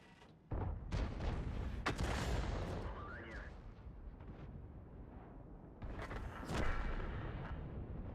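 Heavy booming shots from the 261 self-propelled artillery in a tank video game: two loud blasts with rumbling tails, the first near the start, the second around six seconds in, over continuous battle noise.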